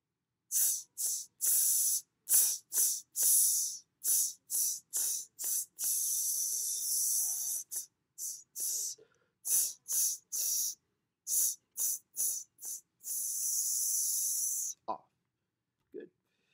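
Students voice a sustained sizzle hiss as a recorder warm-up, imitating steam. The bright, breathy bursts come in a rhythmic pattern of short and longer held hisses separated by brief silences, with several longer sustained stretches.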